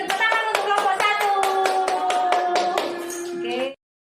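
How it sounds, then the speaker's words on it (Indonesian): A classroom gives a round of brisk rhythmic clapping for the first group, with children's voices chanting along before it stops abruptly. "Tepuk tangan untuk kelompok 1."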